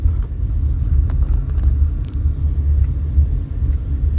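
Vehicle traffic on the Las Vegas Strip near Bellagio and Caesar's Palace, a continuous low rumble of car engines and road noise with a few faint higher clicks and knocks over the top.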